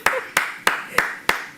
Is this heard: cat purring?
no